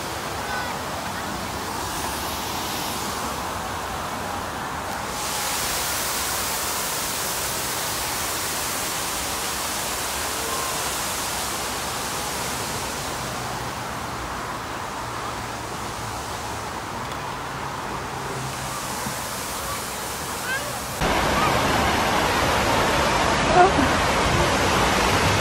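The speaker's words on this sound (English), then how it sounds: "here is that waterfall" A waterfall at a dinosaur-themed mini golf course gives a steady, loud broadband rush of falling water that fills the whole stretch and grows a little brighter near the end, with voices faintly present.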